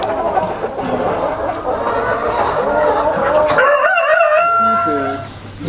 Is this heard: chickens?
yes